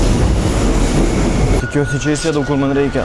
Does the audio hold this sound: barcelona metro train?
yes